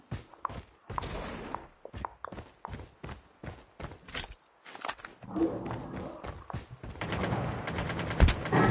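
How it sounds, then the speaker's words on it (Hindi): Game gunfire rings out as a series of sharp, separate shots, then breaks into dense rapid bursts with thuds and scuffling footsteps. "गोली चली गोली चली गोली चली।"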